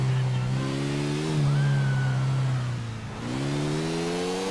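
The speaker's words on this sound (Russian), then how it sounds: "Мощный мотоцикл, однако," A powerful motorcycle engine in the video game GTA 4 drones loudly and steadily. It surges in a rev, dips briefly, then climbs again, with a game voice faintly under the engine noise.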